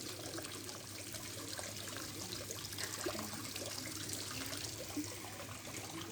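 A waterfall in Negril, Jamaica pours and splashes steadily, a dense even roar with no voices.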